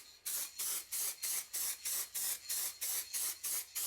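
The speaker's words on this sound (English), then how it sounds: "I'm being very careful with this paint can. I'm spraying it like this in short hops" A spray paint can sprays paint onto Stirling engine parts in about eleven short, evenly spaced hissing bursts with brief gaps between them, close and loud with no other sound.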